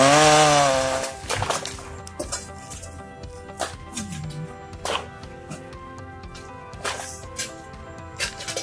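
A chainsaw cuts through roots with a loud, high revving whine for about the first second, then drops to a lower idle broken by irregular bursts and knocks.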